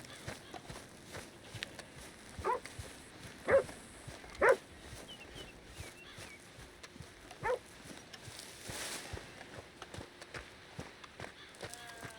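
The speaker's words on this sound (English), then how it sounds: "The dog spotted me." A dog in Red Dead Redemption 2 barks in several sharp, spaced barks, moderately near, over quiet footsteps and rustling ambience, with a few fainter barks toward the end.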